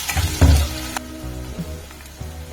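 Garlic, onions and chilies hit a hot pan with a burst of sizzling that quickly settles into a quieter, steady crackle, heard close up with no speech.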